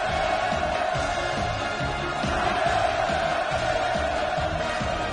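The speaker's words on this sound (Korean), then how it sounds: "김정은 동지께서 도착하시자 폭풍 같은 만세 환호성이 하늘 땅을 진감했습니다" A large crowd roars with sustained cheering and hurrahs as Kim Jong Un arrives at the inauguration ceremony of the Wonsan Kalma Coastal Tourist Area, a dense, steady wall of voices with no break throughout.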